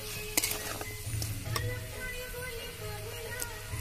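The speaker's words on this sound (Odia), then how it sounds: "ତ ସେଥିପାଇଁ ମୁଁ ବାର ବାର ଘାଣ୍ଟୁଛି।" Chicken potato curry masala being stirred in a pan with oil, a spoon scraping and clinking against the metal over a low sizzle, with a few sharper knocks among the steady scraping.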